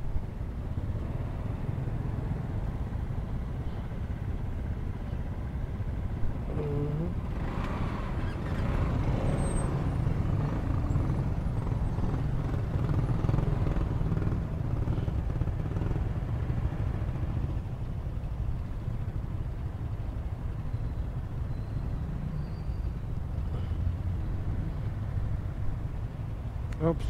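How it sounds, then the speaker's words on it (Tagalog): Steady road traffic rumbles around a Honda Wave RSX motorcycle on a congested road, with a low continuous engine drone, passing trucks and buses, and an occasional air-brake hiss, while a voice talks intermittently over it. "Grabe traffic."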